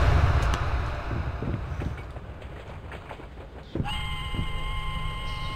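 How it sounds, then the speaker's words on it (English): In the Layers of Fear video game, a train rolls past with a heavy, rumbling roar. Partway through, a sustained high tonal ring cuts in over the steady noise, and nobody speaks. "Oh, a train!"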